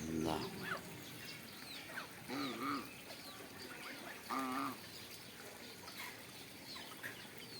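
Ducks quack in short, nasal bursts a few seconds apart over a busy outdoor background, with some wing flapping nearby.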